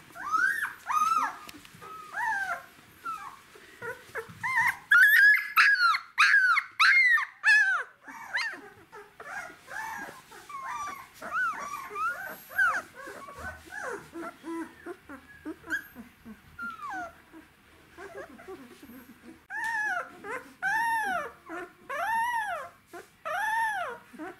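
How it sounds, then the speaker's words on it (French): Thirteen-day-old puppies whimpering and squealing in a nursery pen, a close, busy chorus of high, wavering cries and yelps that overlap continuously, with short quieter gaps. "voir si les chiots commencent à découvrir l'environnement"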